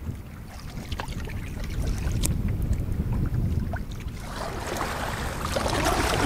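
Paddle strokes and water sloshing from a canoe on a large lake, pushed by a headwind, with steady gusting wind noise across the microphone and rising splash toward the end.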